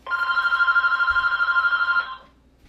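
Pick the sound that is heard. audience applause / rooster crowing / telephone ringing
telephone ringing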